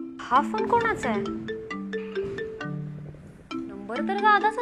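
A mobile phone rings with a melodic electronic ringtone. Clear sequential notes play, pause briefly, then resume, close and fairly loud.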